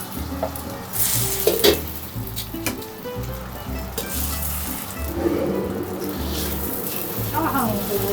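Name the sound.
rice stir-frying in oil in a wok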